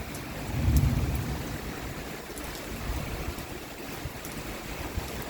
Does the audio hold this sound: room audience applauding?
no